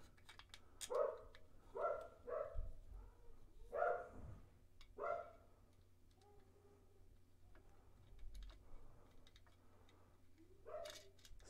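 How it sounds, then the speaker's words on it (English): A dog whines to be let outside, several faint high-pitched whimpers in short bursts, distant and quiet over a low background hum. "dog wanting to go outside."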